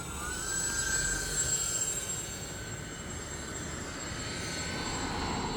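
A UMX C-130 radio-controlled model plane does a full-flap touch and go, its electric motors giving a steady distant whine with thin high tones over a continuous outdoor rumble.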